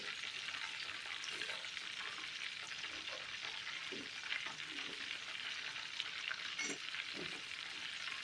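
Madagascan chicken nuggets frying gently over low heat, giving a steady, close sizzle of hot oil with a few soft knocks and stirring sounds as the pieces are turned.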